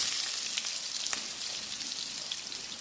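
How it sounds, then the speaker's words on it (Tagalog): Garlic sizzles in hot oil in a pan for chicken curry, a bright, crackly frying hiss that carries on evenly with small pops and one sharper crackle near the start. "I-ola natin yung bawang"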